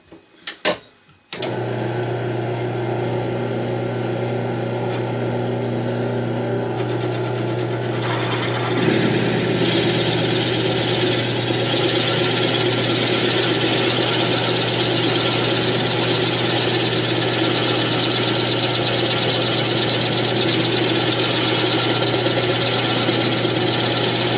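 A wood lathe spinning a shaving brush handle runs at about 500 rpm, a loud steady mechanical drone with a constant hum that shifts slightly partway through as the turning continues.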